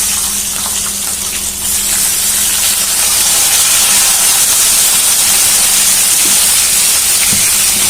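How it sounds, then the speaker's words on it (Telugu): Two slit green chillies fry in hot oil with curry leaves, giving a steady, loud, continuous hiss with no pauses. "ఇప్పుడు మనం పచ్చిమిర్చి కూడా వేసి ఒక 2 పచ్చిమిర్చిలు చీలికలు చేసుకొని వేసుకోవాలి."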